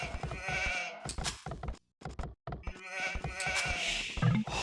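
Sheep in a video game bleat over and over in short bursts with brief quiet gaps between them, fairly clear and near.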